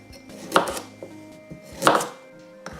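A knife slicing carrot and cucumber on a chopping board, two firm cuts about a second apart with faint softer taps between, close and clear with no talk.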